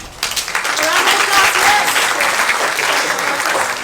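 Steady applause from a live stage-drama audience, dense and continuous clapping filling the room throughout, with a few voices mixed in underneath.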